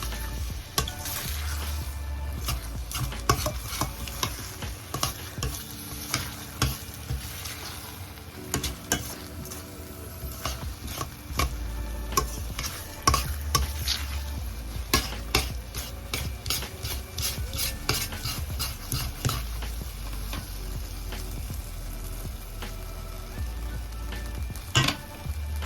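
Sticky wild rice bico is stirred continuously in a pan, producing steady scraping and sloshing strokes over a faint sizzle, close and moderately quiet, repeating in an irregular rhythm for a long stretch without talk.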